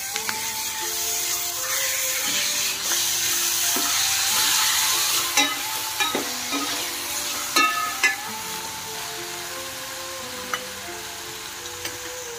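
Chopped tomatoes tipped into fried onions for a Hyderabadi mutton curry, a loud close sizzle and frying hiss with stirring scrapes and occasional spoon knocks against the pan, no talk.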